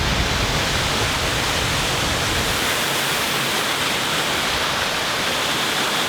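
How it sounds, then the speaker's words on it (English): A loud, continuous roar of falling water at Nunobiki Falls in Kobe, broad and steady throughout, like standing close to a waterfall. "And here's the first view of the waterfalls"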